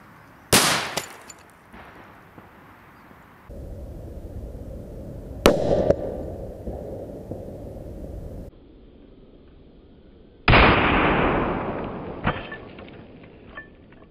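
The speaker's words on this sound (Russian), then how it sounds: "давайте посмотрим, как показала себя петарда К8, помещенная в банку" Several sharp bangs of a K8 firecracker exploding inside a jar crack out one after another at close range, each followed by a lingering hiss and rumble, with no voices.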